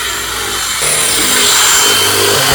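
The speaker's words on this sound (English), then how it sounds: "we're going to have to drill off all the heads and then replace them with some Allen screws" Close and loud, a power drill grinds into screw heads on a 1969 Honda Z50. It whirs steadily and gets harsher partway through as the bit bites in.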